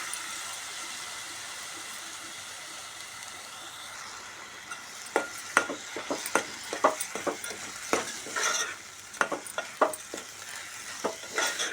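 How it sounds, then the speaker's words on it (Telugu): Rice is stirred into lightly fried spices in a cooking pot for khichdi. A quiet simmering hiss comes first, then a run of close, uneven scraping strokes against the pot. "ఇలా మంచిగా కలుపుకొని"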